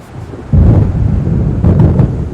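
A thunderstorm in the game Alan Wake rumbles loudly, with two heavy rolling thunder bursts over a constant background of rain and wind, close and booming.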